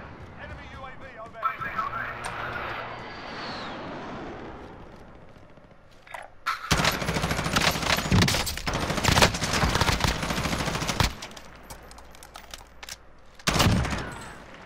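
Bursts of automatic gunfire in Call of Duty Warzone ring out as rapid, loud volleys, with a long sustained spray in the middle and a final short burst, while a player talks over the action.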